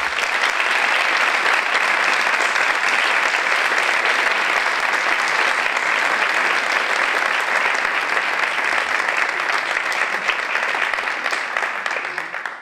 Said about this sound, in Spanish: Vaya para ellas un aplauso con mi agradecimiento